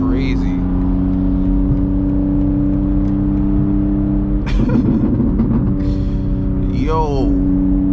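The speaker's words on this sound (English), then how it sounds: "Now the backfire is crazy." A loud BMW M2 driving through city streets, its engine droning steadily with sharp bursts of exhaust crackle and backfire pops midway, while voices talk over it.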